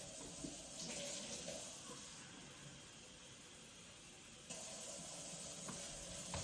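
Hot water is poured in a steady broadband rush while cooking with Le Creuset cookware, a continuous close splashing stream that shifts slightly partway through.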